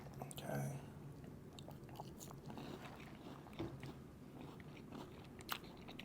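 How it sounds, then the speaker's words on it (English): Close, quiet crunching bites and chewing of Cheez-It Taco Bell food, soft mouth sounds with faint speech in the background. "It seems crunchy, the bite you just had."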